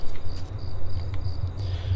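A steady chorus of crickets chirps outdoors in a horror video game, a continuous high trill over a faint low hum, with no other sounds.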